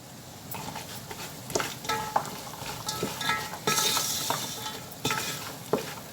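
Food stirred in a cooking pot with turmeric and spices, repeated scraping strokes of a spoon against the pot over a soft sizzle, close and moderately loud, with no talking.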